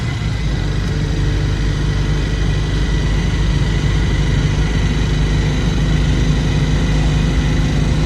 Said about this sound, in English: The engine's so noisy you can't hear the horn from inside the car.